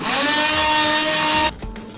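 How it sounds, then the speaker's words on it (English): A hand blender purees a red pepper and chorizo soup with white beans, giving a loud, steady motor whine. It cuts off abruptly partway through, leaving only a few brief knocks. "All I want to do is finish it off is use a hand blender."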